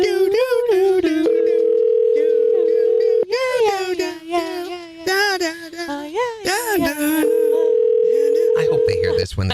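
Telephone tones on a morning radio show as the hosts place a call to a winner, steady ringback tones alternating with hosts singing and talking over them.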